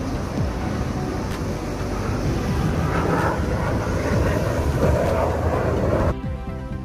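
A steady, broad jet roar from an F-35 fighter jet flying over at Israel's Independence Day rumbles continuously from a distance, holding level for several seconds before cutting off abruptly near the end.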